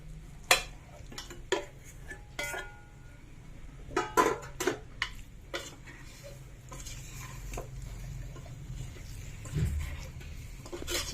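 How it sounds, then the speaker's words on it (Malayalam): Chicken being stirred into masala in a pan for an easy chicken curry, with a series of sharp spoon scrapes and clinks against the metal over a low background hum, irregular and close, with quieter gaps between strokes. "ചിക്കനൊന്ന് ചേർത്ത് ഈ മസാലകളൊന്നൊക്കെ ചേർത്തൊന്ന് യോജിപ്പിക്കാം ചിക്കനിലേക്ക്"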